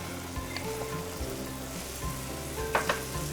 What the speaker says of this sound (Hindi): इसमें हम डालेंगे थोड़ा सा कर्ड